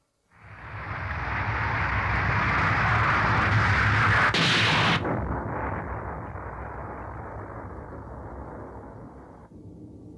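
In an anime, the destroyed Garfish erupts in a loud, sustained roar. A sharp, bright burst cuts through midway, and the shockwave's rumble then slowly fades out, with no voices.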